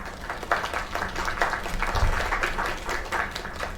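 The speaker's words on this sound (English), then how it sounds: "Another round of applause." Applause from an audience after a singer's performance at a live show, a steady wash of many hands clapping that holds for several seconds at moderate level.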